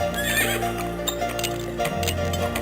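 In a Civil War strategy video game, a horse neighs loudly with a long whinny over a steady rumble, followed by clip-clopping hooves.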